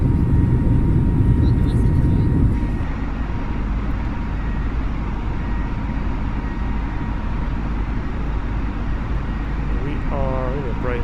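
Steady cabin engine drone of an airliner in Microsoft Flight Simulator, loud and continuous, with a brief louder burst at the start and soft tonal chirps near the end, no talk over it.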